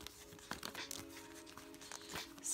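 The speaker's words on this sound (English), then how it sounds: "So I'm just shuffling the cards back into the deck" Tarot cards being shuffled back into a deck: soft, quiet riffles and papery flicks in irregular bursts, close by, over a faint steady hum.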